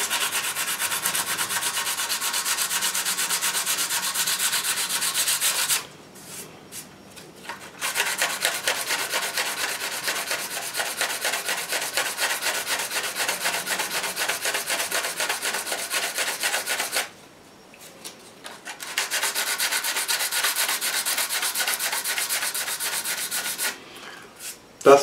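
Hand sanding smooths body filler on a scooter panel, a steady rasping rub that runs for long stretches, broken by two short pauses.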